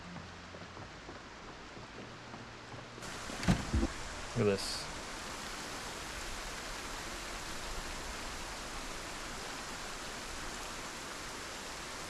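Steady rain falls in the zombie survival game Project Zomboid, an even, soft hiss that continues throughout, broken briefly by a couple of dull thumps and a short spoken remark.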